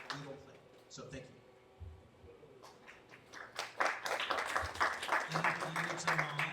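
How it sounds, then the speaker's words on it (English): Applause for a sponsor breaks out after someone speaks, scattered claps building into a fuller round of clapping from a crowd in a room. "one more round of applause for South Texas Health Systems"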